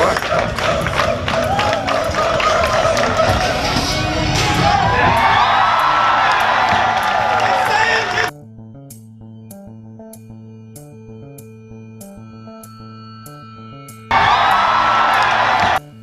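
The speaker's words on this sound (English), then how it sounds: "still had the Team Hoot clap" Crowd at a Team Hoot pole vault meet claps in a steady rhythm amid cheering and whoops, loud and close for about eight seconds, then a quiet stretch of electronic-sounding tones before the crowd noise surges back.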